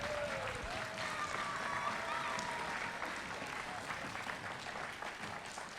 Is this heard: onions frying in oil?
no